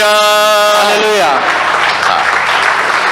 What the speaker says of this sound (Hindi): I want you to give the Lord a big hand of praise.